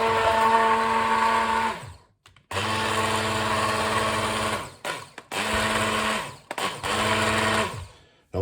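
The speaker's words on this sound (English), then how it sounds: "And we're going to whisk this thing up." A handheld whisk beats a homemade mixture in loud whirring bursts, running for a couple of seconds, cutting out, then starting again several times close up.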